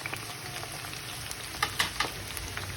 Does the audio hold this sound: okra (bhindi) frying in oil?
yes